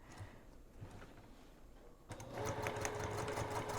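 Sewing machine stitching along the sides of a boxy bag: a quiet, faint background at first, then the motor starts and runs steadily and louder for the rest of the clip.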